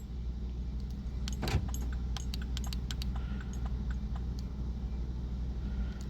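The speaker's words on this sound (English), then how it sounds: "there's a click on the button on the unlock, but not on the lock" A few faint, quick clicks over a steady low background hum from the unlock button of a faulty Vauxhall key fob.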